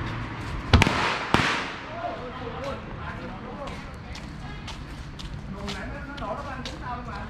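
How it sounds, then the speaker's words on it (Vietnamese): Firecrackers bought across the border in Hà Khẩu, China for Tet, two sharp loud bangs close by early on, then a busy outdoor background with people talking and scattered smaller pops. "Nổ điếc tay ghê luôn."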